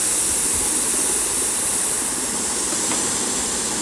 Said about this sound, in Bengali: ঢাকনাটা লাগিয়ে 3টা সিটি দিয়ে দিতে হবে